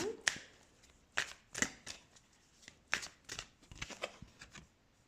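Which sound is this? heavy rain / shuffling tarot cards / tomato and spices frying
shuffling tarot cards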